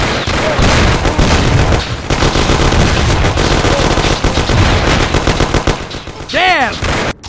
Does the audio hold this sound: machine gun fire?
yes